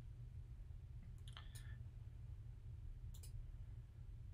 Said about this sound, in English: You can reset the bounds by left clicking, holding, and dragging on these little boxes here.